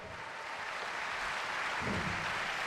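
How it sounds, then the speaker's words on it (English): Comic-Con audience at a Big Bang Theory panel, a steady wash of distant clapping and crowd noise held evenly throughout, fairly faint. "Round of applause for these people."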